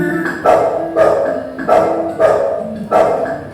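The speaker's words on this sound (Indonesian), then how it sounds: "Suara anjing." A dog barks five times in a steady rhythm, loud and close, each bark short and sharp with a brief pause between.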